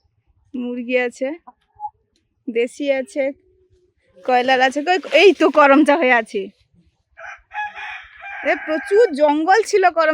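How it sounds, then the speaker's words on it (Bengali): Hens cluck and a rooster crows in short harmonic bursts, fairly close, with several pauses between calls, in a home garden. "এই যে মুরগি"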